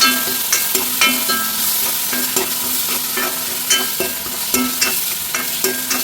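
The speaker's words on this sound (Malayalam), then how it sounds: "ഇതിലേക്ക് തക്കാളിയും പച്ചമുളകും ഇട്ട് കൊടുക്കാം. ഇതും നന്നായിട്ട് വഴറ്റി കൊടുക്കാം." Tomatoes and green chillies sautéing in a pan for a Kerala koorkka masala, a steady close sizzle broken by regular scrapes and clinks of a spatula stirring, with no voices.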